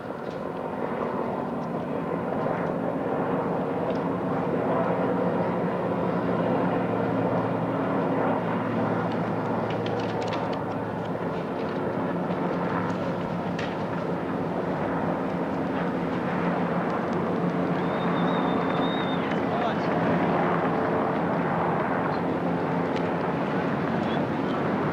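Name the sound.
aircraft flypast at 1988 Australian Bicentenary celebration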